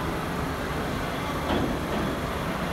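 An R62 subway train on New York's 7 Avenue Line passes as a steady, loud rail rumble with wheel noise, holding even throughout with a slight swell midway and no talk.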